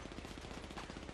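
Rapid gunfire in GTA's Los Santos, a dense continuous burst of shots throughout a short moment, heavy and evenly paced like automatic fire.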